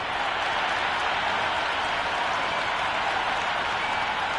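A stadium crowd at a cricket match between India and the Netherlands roars and claps in a dense, continuous wash of noise before play begins.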